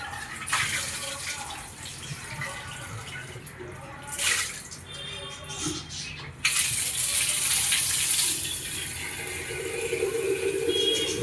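Cold bore water runs from an outdoor tap while a betta fish tank is being cleaned, a steady gushing flow with brief splashy bursts and a louder stretch toward the end, with some talk mixed in.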